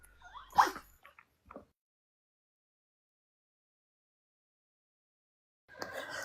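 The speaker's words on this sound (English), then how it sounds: "the 3-legged dog is barking or coughing" A three-legged dog gives a short sharp bark followed by a couple of small yips, then silence before muffled noise returns.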